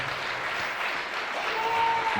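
Church congregation in Osasco clapping harder at a revival service, a continuous dense wash of applause with a thin sustained tone rising near the end.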